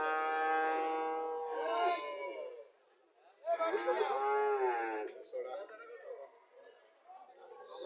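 A golden Haryana cow with a heifer calf moos in two long, strong calls close by, a short quiet gap between them, followed by a voice talking.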